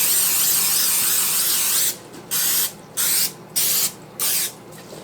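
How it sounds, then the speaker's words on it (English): A sustained cooking spray aerosol hisses onto a baking pan, then comes in four short bursts with brief pauses between them, close to the microphone. "I'm going to spray my pan"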